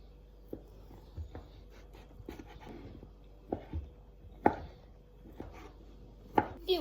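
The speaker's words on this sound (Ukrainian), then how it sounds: "Нарізаємо на слайси товщиною близько пів сантиметра, і потім на" A knife chops cheese into cubes on a cutting board in irregular, fairly quiet taps, with a few sharper knocks spaced across the clip.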